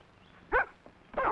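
A dog barks twice, two short, clear barks about half a second apart, close by against a quiet background.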